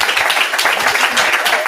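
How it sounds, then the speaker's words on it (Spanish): An audience at an education event applauds for a few seconds, dense clapping holding steady at a fairly loud level with a slight swell near the end. "Y eso merece, sí, un aplauso."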